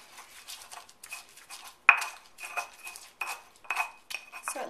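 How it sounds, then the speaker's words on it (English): Chopped cilantro being mashed and rubbed into a paste against the sides of a bowl for guacamole, giving repeated scraping and clinking strokes in an uneven rhythm, close and moderately loud, with one sharper knock partway through. "So you just rub this against the sides of the bowl until it's a paste."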